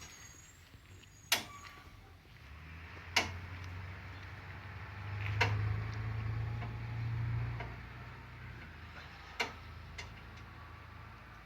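A car jack raises a Jeep by the axle with a series of sharp, spaced clicks of the ratcheting mechanism, about every two seconds, over a low grinding rumble that swells midway, faint and close.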